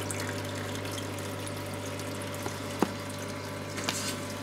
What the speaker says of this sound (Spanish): mejor cómo cae el agua, que es filtrada mecánicamente por guata, que está por sobre la parte seca